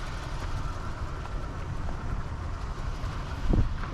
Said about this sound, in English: the wind is kicking a little bit here